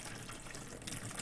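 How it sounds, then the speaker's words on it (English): Fuel pours steadily from a canister into a tank in the Disco Elysium video game, a continuous liquid gush with no break throughout, fairly quiet. "dark brown viscous fluid pours out and the room fills with a chemical smell"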